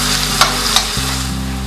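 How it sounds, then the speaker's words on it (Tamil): Onions frying in oil for a vermicelli biryani, a loud, dense, continuous sizzle close by, with two quick scrapes of stirring in the pan. "வெங்காயம் நல்லா வதங்கிடுச்சு"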